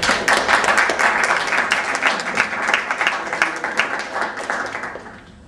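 An audience in a room bursts into applause, a dense burst of many hands clapping that carries on steadily, then thins and fades out near the end.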